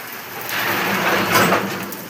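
Heavy rain pours down in a continuous broadband roar, close and loud, swelling slightly midway through the short stretch, with no voices.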